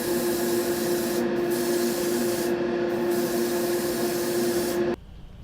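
White paint sprayed by airbrush over a dried layer of chipping fluid on an HG Graze Custom II Ryusei-go Gundam model kit, a steady close hiss running several seconds before cutting off abruptly near the end.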